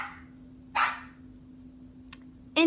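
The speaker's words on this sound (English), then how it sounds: "my dog is mad because she's not in the room with me" A dog shut out of the room gives three sharp, separate barks, loud and fairly close, between stretches of quiet indoor hum.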